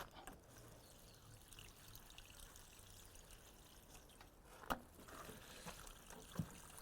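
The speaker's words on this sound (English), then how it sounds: "we'll have to water all these in now" Water trickles and pours steadily at a quiet level onto plants in a raised garden bed, with a couple of brief sharp knocks partway through.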